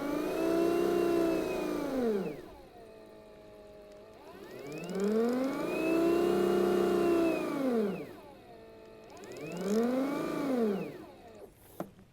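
Ego backpack sprayer pump running at 350 PSI, three long surging whirs that climb and fall in pitch as the engine-like motor revs up and eases off, close and loud with no talking.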